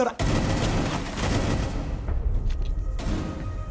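A designated marksman rifle fires during a Rainbow Six Siege match, a dense, loud stretch of sharp gunfire cracks and booms that thins out toward the end.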